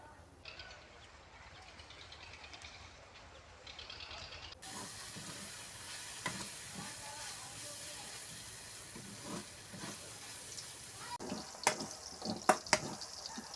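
Chopped hyacinth beans fry in a pan for bean bharta, giving a continuous soft sizzling hiss with intermittent crackles and a few sharper pops toward the end, quiet and close with no clear talking.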